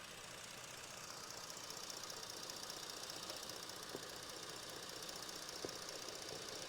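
A 2018 Ford Explorer with a 3.5-liter V6 runs steadily, a faint, continuous broadband engine drone with a few small ticks, no voices.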